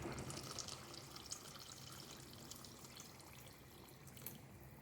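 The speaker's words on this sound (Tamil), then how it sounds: "இப்போ பாருங்கள் புளி தண்ணியை ஆட் பண்ணிக்கலாம்" Tamarind water being poured into a boiling sole fish curry, a steady, continuous liquid splashing and bubbling with no talk over it.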